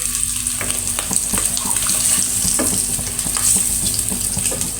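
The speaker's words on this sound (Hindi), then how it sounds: "अंडों को हमने इस तरह रोस्ट कर लेना है" A constant, dense sizzle of eggs frying in a pan, loud and close, with light crackling and faint scraping throughout.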